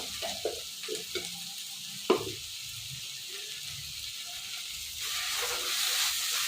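Ginger garlic paste fries in a pan while making veg fried rice. A soft sizzle carries a few clear spoon knocks and scrapes early on, then the hiss grows louder and more even toward the end.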